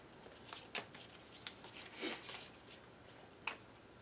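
A deck of cards is shuffled lightly at a tabletop board game session of Kingdom Death Monster, quiet soft riffling and flicking taps coming in scattered short bursts, close and faint.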